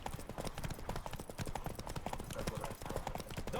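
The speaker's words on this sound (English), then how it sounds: "Don't spare the horse!" Horse hooves gallop in a steady, busy clip-clop rhythm from Roach in The Witcher 3 video game during a race, loud and continuous throughout.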